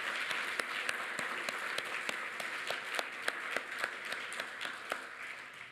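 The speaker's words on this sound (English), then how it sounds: "Please join me in giving a round of applause once again to the terrific, talented 12." A crowd at an Employee of the Year 2019 awards evening gives a round of applause: continuous, moderately distant clapping with individual sharp claps standing out, no talking.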